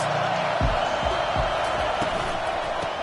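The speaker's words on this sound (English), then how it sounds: "Big third down as the crowd gets behind this defense." Stadium crowd at a college football game roars steadily through a third-down defensive stand, a continuous loud wash of cheering and whooping with a few low thumps underneath.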